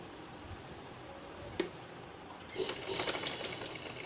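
A sewing machine runs a seam along salwar fabric, a soft rapid ticking stitch that rises after a quiet start, faint and close under low room noise, with no talk.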